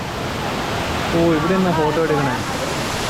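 Tukad Cepung waterfall in Bali sends a steady, loud broadband rush of falling water throughout, with a voice speaking over it midway.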